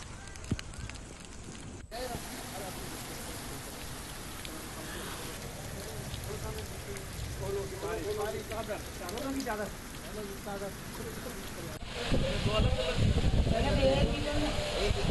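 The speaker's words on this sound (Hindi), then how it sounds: "दौसा और आसपास के इलाकों में पश्चिमी विक्षोभ के असर से मूसलाधार बारिश के साथ ओलावृष्टि भी हुई।" Torrential rain with hail pours down in Dausa, a steady loud hiss of water striking surfaces that grows heavier toward the end, with voices talking underneath.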